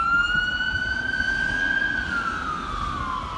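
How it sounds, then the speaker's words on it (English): A wailing ambulance siren holds a long rising then falling tone, fairly loud over a rumbling background of traffic near Gloucester railway station. "It's an ambulance."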